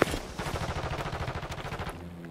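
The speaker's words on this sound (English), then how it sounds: "now someone else is shooting here" Automatic gunfire rattles in rapid, even bursts in Warzone Resurgence on Fortune's Keep, loud and close with a sharp shot at the start, then fades off.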